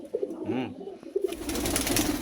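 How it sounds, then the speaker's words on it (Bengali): Andhra line pigeons give several low, rolling coos close by, then a burst of rustling, flapping-like noise rises and continues under the calls. "আরও দুটো আন্ধ্রা লাইনের পায়রা ছাড়লাম"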